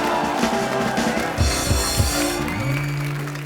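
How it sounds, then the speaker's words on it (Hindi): Studio audience applauding Paralympic medal winners on a Hindi comedy talk show, a broad burst of clapping and crowd noise with a few low thumps, loud and close, fading slightly toward the end. "जोरदार तालियां"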